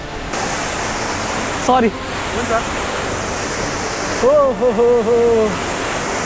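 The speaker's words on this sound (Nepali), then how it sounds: "This is the view of waterfall." Namaste Jharna waterfall in East Nepal roars as a steady, loud broadband rush throughout, with a person speaking briefly over the falling water.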